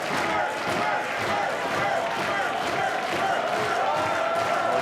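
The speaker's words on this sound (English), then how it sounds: "this sold-out crowd at the Commodore going wild" A sold-out wrestling crowd at the Commodore in Vancouver roars and cheers without letup, a dense, loud wall of yelling and shouting that fills the hall from front row to balcony during a three-way match.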